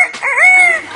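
A parrot mimics a rooster's crow, delivering one clear, loud, drawn-out cock-a-doodle-doo with rising and falling pitch, close by and with no other voices.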